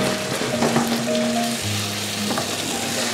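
Sautéed vegetables with chopped parsley and celery fry in a pan for prawn penne pasta, a steady close sizzle with a few light scraping and stirring touches and faint tonal hums underneath, no talking.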